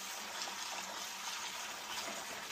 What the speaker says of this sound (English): we're going to bleed the air and water through A and B.